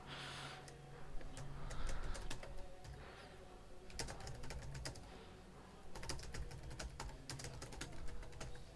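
Typing on a computer keyboard while writing code comments in C#, with steady clicky keystrokes in quick bursts and brief pauses, close and clear.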